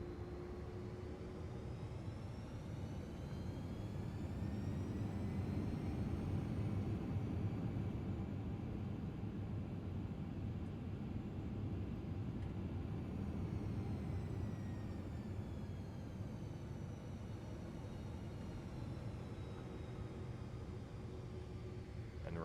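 Jet engines of a TFDi Design MD-11 in a flight simulator, a loud steady broadband roar with a high whine, holding constant for over twenty seconds with a slight swell and fade in pitch, no voices.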